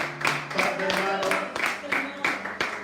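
Congregation clapping in steady rhythm during a church worship service, with sharp, evenly spaced claps over sustained music and singing.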